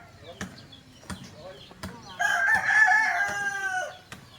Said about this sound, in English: Nice and noisy in the morning with the rooster.